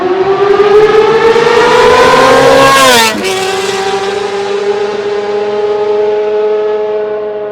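Motorcycles racing on a track roar loudly past at close range: a high-revving engine whine that climbs, then drops sharply in pitch as the bike passes, and the drone continues steadily afterward.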